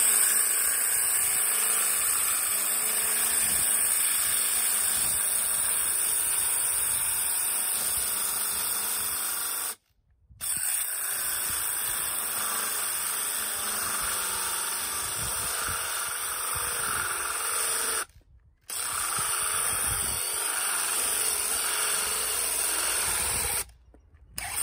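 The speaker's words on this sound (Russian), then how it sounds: "Сейчас вот мы сверлим 6 коронок" A cordless drill with a core bit grinds steadily into damp concrete, loud and close, stopping briefly three times before starting again.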